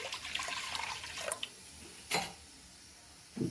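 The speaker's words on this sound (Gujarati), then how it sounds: "આપણે એક વાસણમાં જરૂર પૂરતું આપણે પાણી લઈ લઈશું." Water is poured from a tap into a cooking pot in a home kitchen while making sambar, with soft splashing and trickling, then two brief, sharper splashes near the end.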